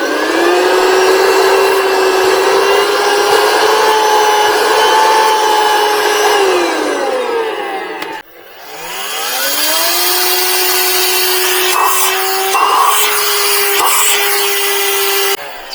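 A VacLife rechargeable handheld vacuum with a motorized brush whines steadily at high pitch, winds down to a stop, then spins back up and keeps running loud and close.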